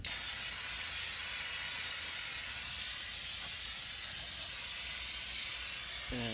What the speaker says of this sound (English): I'll take some nice brake cleaner.